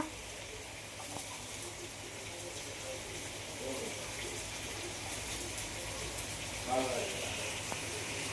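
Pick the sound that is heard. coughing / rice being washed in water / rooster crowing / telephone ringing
rice being washed in water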